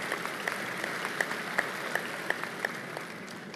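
Audience at an NYPD Medal Day ceremony claps steadily for several seconds, a dense even patter of many hands with a few sharper individual claps standing out, moderately distant and without talk.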